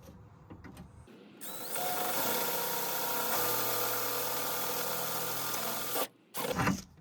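A power drill bores through the door panel of a Holden Commodore VT/VX/VY/VZ during a rear window regulator replacement, whining steadily for about five seconds before stopping, then a brief final burst.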